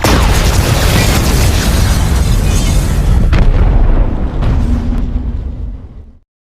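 A massive explosion effect for a Sonic comic scene: a loud, roaring boom with a sustained rumbling blast that holds for several seconds before cutting off abruptly.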